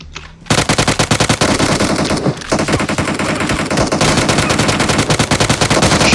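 Loud, rapid automatic gunfire in the battle royale video game PUBG, a dense continuous stream of shots after a brief quiet start, with no talking over it.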